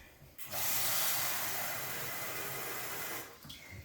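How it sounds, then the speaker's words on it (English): Water running steadily from a tap into a bowl, a continuous close hiss and splash that starts abruptly, holds for almost three seconds and then stops, with no talking. "I should get a bowl of water."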